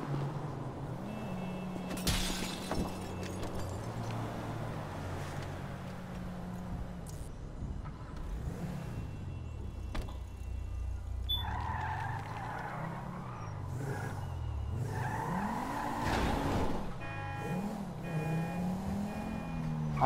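Car driving and skidding in Grand Theft Auto V, with a steady engine drone shifting in pitch and tire squeals breaking out mid-clip, mixed with game ambience and no talk.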